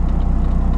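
Nissan 240SX with an SR20DET engine idling steadily just under 1,000 rpm, a loud, close, even low rumble with a regular pulsing beat.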